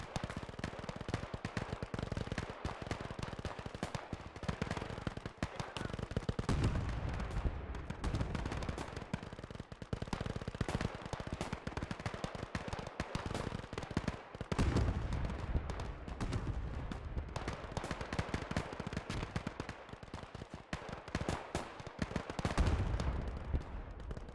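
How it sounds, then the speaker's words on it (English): Dense German rifle fire rolls through a large Gates of Hell video game battle, with overlapping gunshots and bursts of automatic fire crackling nonstop under a loud, constant battlefield din. "Soviets being killed out here in the open by the German rifle fire."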